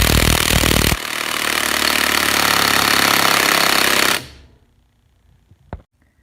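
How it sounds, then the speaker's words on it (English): Loud, rapid hammering of a cordless impact wrench powered by a Vannon 54 watt hour battery, a harsh continuous rattle lasting about three seconds before stopping abruptly, followed by quiet and a brief clunk. "I'm sure you could hear the noise as it was impacting."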